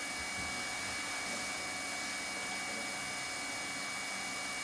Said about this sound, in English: Now joint seal both ends of the seam using a manual welding unit